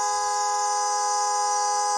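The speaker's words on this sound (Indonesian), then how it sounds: "70 suara telolet." Telolet bus horn tones played from a phone app: a steady, sustained multi-tone electronic horn chord holding evenly at moderate loudness for two seconds, with no talking.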